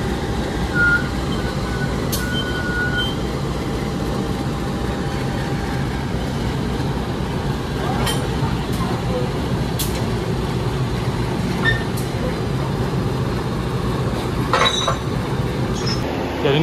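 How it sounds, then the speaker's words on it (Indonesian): Commuter line locomotive being coupled to train cars at a station, a steady rumbling train ambience with occasional metallic clanks and brief squeals throughout, no clear voices. "ini ada proses penyambungan lokomotif kereta api komuter line Doho"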